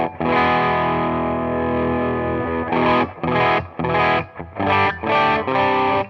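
An electric guitar on its bridge pickup, run through overdrive with the gain turned up, rings out one long sustained chord, then a run of choppy, rhythmic chord stabs, loud and upfront with no voices.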